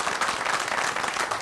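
A Punjabi theatre audience in Canada claps, giving a brief, soft patter of applause from many hands, heard at a distance and alone.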